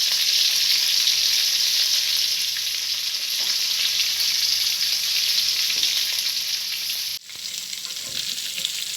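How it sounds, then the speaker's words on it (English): Ginger, coriander leaves and curry leaves with salt fry in a tawa for white rava upma, giving a steady, loud, close sizzle throughout with a brief dip near the end. "whatever the items we have put inside the tawa is fried"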